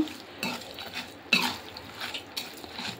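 Grated green mango pickle being stirred into a cooked curry with a spoon, giving soft scraping and clinking against the pot in a few short bursts at close range, with no talk.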